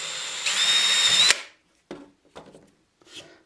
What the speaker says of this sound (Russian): Отступаем 1 сантиметр и сверлим.